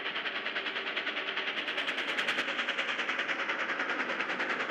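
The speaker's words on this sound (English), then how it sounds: "So yeah, here's Princess Elizabeth pounding up the Licky Incline, Lily." Steam locomotive Princess Elizabeth pounding up the steep Lickey Incline, a loud, steady rapid chuffing exhaust beat with rhythmic pulses and hiss, close and continuous with no talk.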